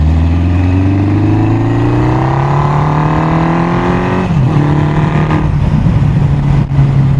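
An old Honda 750 Four motorcycle engine revs up steadily, pitch climbing over several seconds, then dips and settles into a loud, close, even idle-to-mid rumble with no talk.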